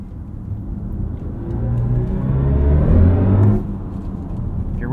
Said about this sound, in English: BMW and Audi have kind of the best EV driving sounds that I've experienced